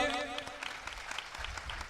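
Applause for a singer at a Swaminarayan kirtan festival: a crowd clapping steadily at moderate volume, with a voice heard briefly at the start.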